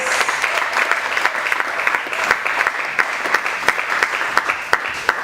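Applause from a church congregation after a deliverance prayer, a dense, steady wash of many hands with sharper individual claps standing out near the front.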